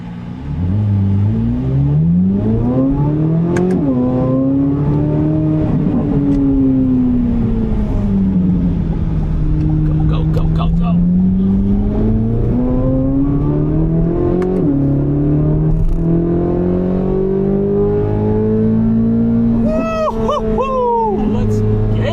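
Corvette C8 Z06 engine heard from inside while driving through streets, loud sustained revving that rises and falls through the gears, with a voice briefly speaking over it.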